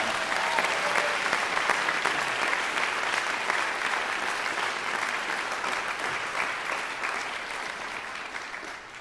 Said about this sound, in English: How about one more round of applause for Shikta Ben-Hanan?